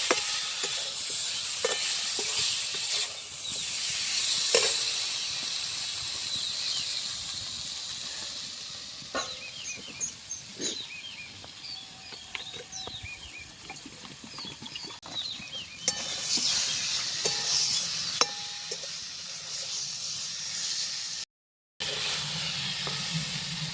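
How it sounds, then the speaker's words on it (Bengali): Hilsa fish pieces sizzle in a pan while being gently stirred, a continuous hissing fry with occasional soft scrapes and clinks, close by with no talking and a brief dropout near the end. "ইলিশ মাছটা দিয়ে একটু হালকা নাড়াচাড়া করে নেব খুব বেশি ভাজা ভাজা করবো না"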